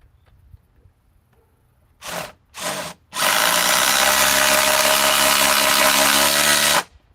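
A Ryobi cordless impact driver gives two short bursts, then runs loud and steady for several seconds before stopping, close by with no voices.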